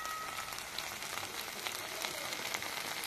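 Cabbage and prawn paturi frying in a pan gives a steady, soft crackling hiss with faint scattered pops, evenly loud throughout and with no voices.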